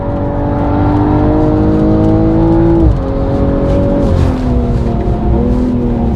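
A BMW M240i on a racetrack lap, its engine droning loud and close under steady load, pitch climbing through a gear before a brief dip and renewed pull, heard from inside the car with no talking.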